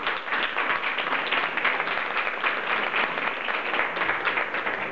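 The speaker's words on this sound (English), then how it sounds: "please, with a round of applause" Audience applause at the opening of a Leica center in Palm Beach, Florida: a steady wash of many hands clapping, close and fairly loud, continuous for several seconds with no voices.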